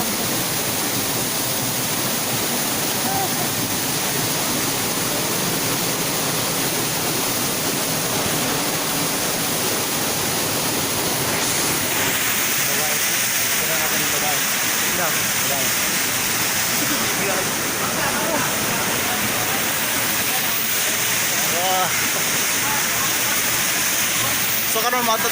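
Pangyan Falls in Davao Oriental, a rocky waterfall near a hot spring, roars with a steady, dense rush of falling water, loud and close throughout.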